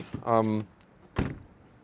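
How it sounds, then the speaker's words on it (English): A Smart #5 Brabus frameless car door swings shut with a hollow, thin-sounding thunk close by, just after a brief voice is heard. "Then again, it's against noise, door closing sound. Yeah, that's not good."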